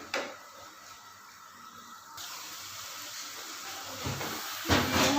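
Chicken fries in a pan with a steady hiss and sizzle that grows louder partway through, close and alone without speech.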